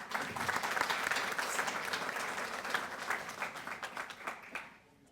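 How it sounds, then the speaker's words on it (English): An audience applauds student Sanvi at a Rotary Club Student of the Year event, a full burst of clapping that thins into scattered, separate claps and fades toward the end. "And another round of applause for Sanvi."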